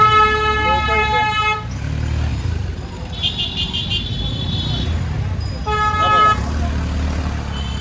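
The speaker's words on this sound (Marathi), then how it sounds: "ते लोक बिना कारणाचा हॉर्न वाजवतात" Vehicle horns honk repeatedly in crowded Varanasi street traffic, with several loud toots in bursts over a steady motorcycle and road rumble.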